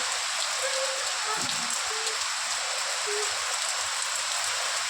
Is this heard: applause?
no